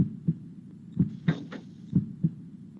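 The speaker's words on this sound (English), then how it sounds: "Like heart beating?" A steady heartbeat sound effect, likely from a horror-themed anime OVA, thumps in paired beats about once a second, loud and clear with no talk over it.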